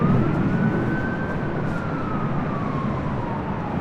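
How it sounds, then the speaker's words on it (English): A faint siren wails slowly up and down at LAX airport, distant beneath a loud steady rumble of wind or engine noise. "I still hear the sirens."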